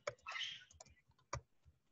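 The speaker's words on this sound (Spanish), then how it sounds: "se da clic" Sharp, separate clicks from a computer mouse or keyboard sound close and quiet during classroom software work, spaced irregularly with brief gaps of near silence.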